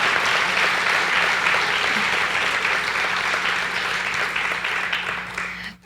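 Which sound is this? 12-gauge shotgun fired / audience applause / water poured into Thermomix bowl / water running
audience applause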